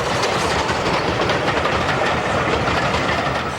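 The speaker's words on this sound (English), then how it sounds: "The Swindon-built Standard 4, restored to its BR appearance, heads another assorted rake of coaches" A Swindon-built BR Standard 4 steam locomotive in BR appearance hauling an assorted rake of coaches, a loud continuous rumble with faint rhythmic rail clatter throughout.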